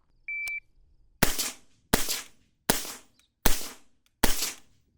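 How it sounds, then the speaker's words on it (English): Suppressed rifle firing Fiocchi .223 ammunition, five slow, evenly spaced muffled shots roughly three-quarters of a second apart, each a sharp crack with a short tail, after a brief electronic beep, with no talk. "We'll just go ahead and shoot 5 slow rounds and see how this suppressor sounds"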